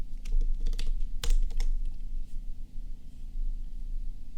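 Typing on a computer keyboard while writing React code for an e-commerce site header, steady close key clicks with a brief faster flurry near the start, no voices.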